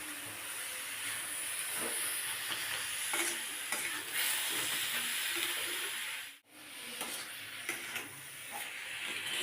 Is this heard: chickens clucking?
no